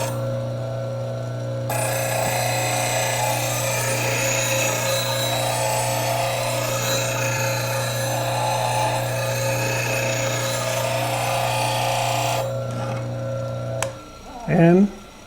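A bench grinder sharpens a long woodturning gouge to a 40-40 grind, giving a steady, loud grinding whine over a low motor hum for about eleven seconds before it stops. A brief voice follows at the end.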